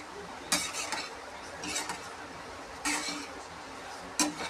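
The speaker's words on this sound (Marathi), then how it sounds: "कढई तापल्यावर थोडंसं तूप टाकून थोडं थोडे पोहे भाजून घ्यायचे" A spoon scraping and clinking against a hot kadhai while poha is roasted in a little ghee, four distinct metallic stirring strokes spaced irregularly over a quiet background.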